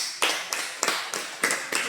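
A classroom of students claps for group 2 in short bursts, about six distinct waves of quick hand claps in an uneven rhythm, close and moderately loud, with no talking over them.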